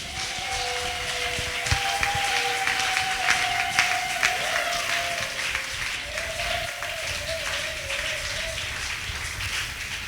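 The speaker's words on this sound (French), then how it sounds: "Est-ce que nous pouvons l'acclamer fortement?" A church congregation applauding loudly, sustained dense clapping from a large crowd with a sung or held vocal note running through it, full and near throughout.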